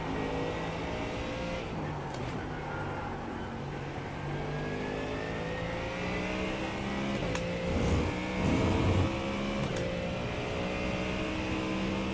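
Porsche race cars in a sim racing game drone and rev steadily close by, with engine pitches rising and shifting as they chase, plus a few brief sharp clicks.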